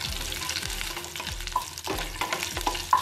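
Curry leaves and chopped green chilli sizzle steadily in a pan for potato bhaji, with a spoon scraping through at a regular pace of about one stroke every half second, close and clear.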